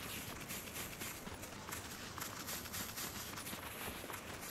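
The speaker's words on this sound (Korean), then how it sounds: "뒤에서 뛰어오는 소리" Running footsteps approach from behind in PUBG on a new test-server map: a quick, steady patter of steps under constant background noise, with no talk.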